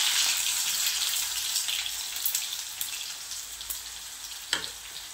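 Finely chopped onion sautés in a pan with cumin seeds, giving a steady close sizzle and crackle with a few sharp pops and stirring ticks, no voices.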